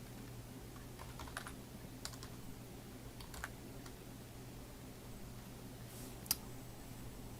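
Keys tapped on a computer keyboard to enter a file name for a site plan drawing, a sparse run of quiet clicks and short bursts over a steady low hum, with no talking.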